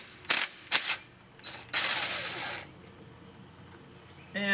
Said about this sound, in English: Now we'll remove the brake line clip,